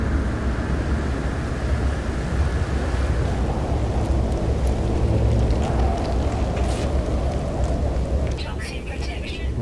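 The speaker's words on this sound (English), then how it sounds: "Because the storm will end in a minute." Storm on an alien planet in No Man's Sky: a dense, steady roar of wind-driven rain and rumbling low noise fills the scene without a break, loud and constant, with faint crackles toward the end.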